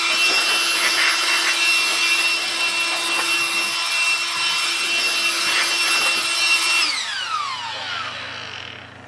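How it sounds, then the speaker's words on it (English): A Ryobi battery-powered blower fitted with a 4 amp-hour battery roars at a steady high-pitched whine up close, then is switched off and its motor spins down in a falling tone. "we'll just use this blower with a 4 amp hour battery on there just to take care"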